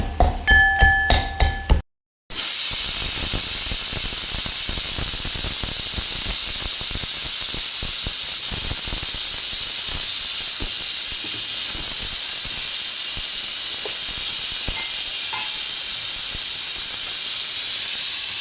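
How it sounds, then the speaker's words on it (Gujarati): A pressure cooker cooking dal lets off a few quick puffs, then a loud, continuous jet of whistling steam that hisses on steadily. "દાળની સીટીઓ વાગી જઈએ"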